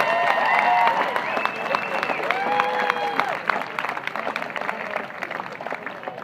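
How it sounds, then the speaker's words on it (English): An outdoor festival audience applauds for a volunteer committee, steady clapping and crowd noise throughout, mixed with cheering and overlapping voices. "let's hear a round of applause for the City Days Volunteer Committee"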